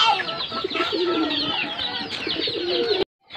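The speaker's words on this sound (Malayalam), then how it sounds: "ഇതാണ് നമ്മുടെ പ്രാവിന്റെ കൂട്. ഇത് നാടൻ പ്രാവാണ് കേട്ടോ." Native country pigeons in their coop coo and flutter in a dense, continuous chorus of bird calls, close and fairly loud, ending abruptly before a brief quiet.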